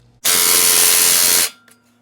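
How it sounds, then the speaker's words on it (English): A cordless drill with a nearly flat battery whirs in one loud, steady burst of just over a second, then cuts off abruptly. It is being used while installing coilovers on an Infiniti G37. "I need to charge my drill."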